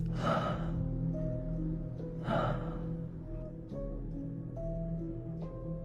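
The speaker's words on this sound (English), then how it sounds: "then the woman gasps in fear" A woman gasps sharply twice, short breathy intakes standing out over a low, steady hum and faint tonal background, close and fairly loud.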